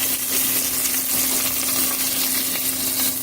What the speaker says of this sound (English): So, these are kind of grilling. And let's just flip them over